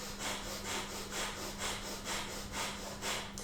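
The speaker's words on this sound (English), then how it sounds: "short, sharp contractions of the belly, the navel, as the breath comes in and out of the nose quite vigorously" Kundalini yoga breath of fire: rapid, vigorous nasal breathing driven by sharp belly contractions, about two forceful sniffs per second in a steady, even rhythm, close and alone.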